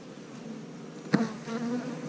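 A steady insect buzz of many bees droning together, close by, with a brief louder flurry as one passes near.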